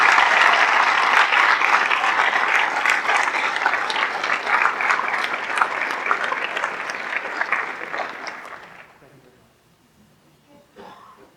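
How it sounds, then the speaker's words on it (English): Sustained applause from an audience at a school staff recognition ceremony honoring staff members with 15 years of service, dense clapping lasting about nine seconds before fading out into quiet room tone. "If we could please have a big round of applause for all of our staff members for 15 years of service."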